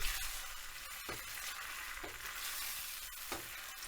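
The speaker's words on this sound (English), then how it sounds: "this is what in Italy we call saltare in padella, which means make it jump in the pan" Spaghetti aglio olio e peperoncino being tossed and stirred in a starchy, oily pan, giving a steady close sizzle broken by a few soft swishing bursts as the pasta is jumped and moved around; no talking.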